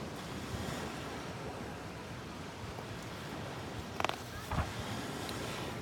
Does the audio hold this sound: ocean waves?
yes